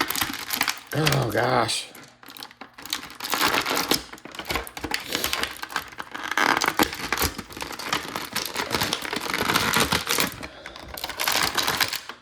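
Loud, close crinkling and crackling of plastic packaging while opening a G.I. Joe figure, continuous rustling bursts with a brief exclamation over it.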